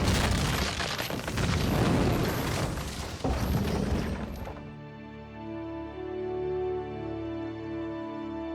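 A heavy booming crash of a creature smashing into a door for about four and a half seconds, then it drops away to a low, ringing mechanical hum.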